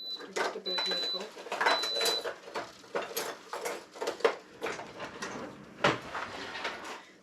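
Kitchen drawers being yanked open and shut while searching for a bread knife, a rattling series of clacks, thumps and metal clinks close by, with a person talking over them.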